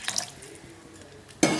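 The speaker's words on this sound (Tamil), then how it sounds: "புளி கரைச்சி வச்சுருக்கோம் இல்லையா, அதையும் ஊற்றிடலாம்." Dissolved tamarind water poured into a pot of rasam: a short splash at the start, a quieter pause, then a loud close gush of liquid near the end, with no talk.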